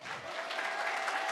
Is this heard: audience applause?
yes